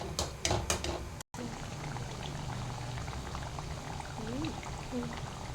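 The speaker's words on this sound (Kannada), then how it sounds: "ಮೀಡಿಯಮ್ ಸೈಜ್ ಇಟ್ಟು ಇವನ್ನ ಎಲ್ಲ ಫ್ರೈ ಮಾಡ್ಕೋಬೇಕ್ರಿ" Wheat-flour garige frying in hot oil over a medium flame, a steady close bubbling hiss that carries through with a few sharper knocks near the start.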